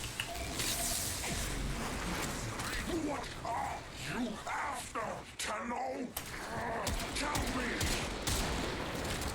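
Gunfire in the Warframe video game, dense fusillades and mechanical clatter running almost continuously over a busy game soundscape, with a voice talking throughout.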